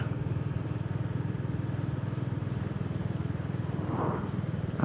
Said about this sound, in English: the Royal Enfield is running magnificently